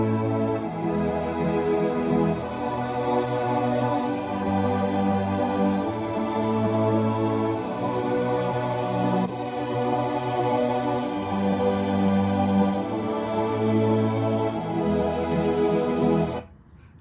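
String ensemble panned across the stereo field for an enveloping effect, sustaining rich layered chords continuously for about sixteen seconds before cutting off, full and steady with no voices.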